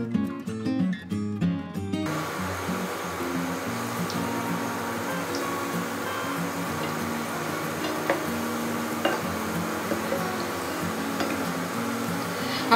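Gulab jamun dropped into fully heated oil for frying, giving a dense, even sizzle with faint crackles that runs continuously after a short burst of music at the start.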